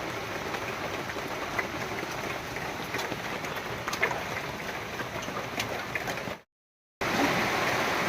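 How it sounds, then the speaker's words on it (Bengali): Heavy monsoon rain pours steadily, a dense even hiss of falling water that fills the scene without pause, briefly cutting out near the end before returning. "যে বৃষ্টি আরম্ভ হয়েছে"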